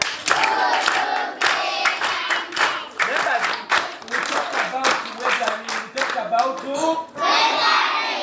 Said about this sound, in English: Can we clap that boy?